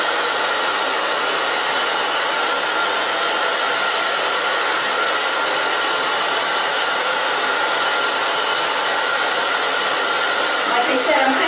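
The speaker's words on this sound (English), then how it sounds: "So I'm just going to blow dry this straight down." A hair dryer blows hard and continuously while drying bangs, a loud, close, unbroken rushing whir for the whole stretch.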